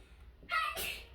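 A single sneeze from someone nearby indoors, a short sharp burst lasting about half a second, with a quieter second puff right after it.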